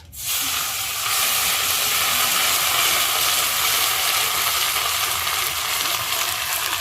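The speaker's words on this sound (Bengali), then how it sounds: "আমি জিরে ফোড়ন দিয়ে দিচ্ছি। এরপর আদা কাঁচা লঙ্কা বাটা" Cumin seeds with ginger and green chili paste hitting hot oil for a prawn malai curry, bursting into a loud, steady hiss that starts abruptly and holds evenly, close by, with no voices.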